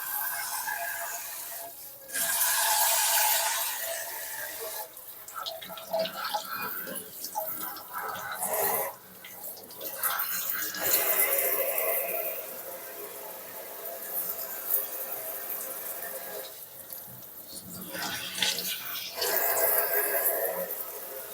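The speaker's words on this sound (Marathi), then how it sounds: "तर आता परत एकदा हा चांगल्या पाण्यात धुया" Soft-shell crabs are rinsed by hand in clean water, giving intermittent splashing, dripping and rubbing in several bursts with pauses between them.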